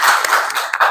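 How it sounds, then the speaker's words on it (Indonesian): A classroom audience claps for a student group, a brief burst of many hands with uneven, overlapping claps that fill the whole second at moderate loudness. "berikan tepuk tangan untuk kelompok Jotaslim"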